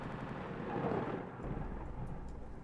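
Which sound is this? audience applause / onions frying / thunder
thunder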